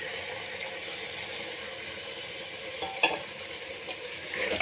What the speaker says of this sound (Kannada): ಈಗ ಇದಕ್ಕೆ ಟೊಮೊಟೊ ಹಣ್ಣನ್ನು ಹಾಕೋಣ.